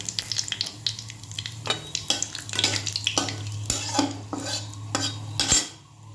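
Whole spices, cinnamon, cardamom, cloves, cumin seeds and bay leaf, sizzle and fry in hot oil in a pot, with a steady crackle, repeated scraping and clinking of a metal spoon stirring close up.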